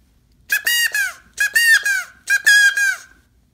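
A handmade quail call is blown in three bright, squeaky bursts, each made of quick chirping notes with short pauses between them, heard close and clear against a quiet background.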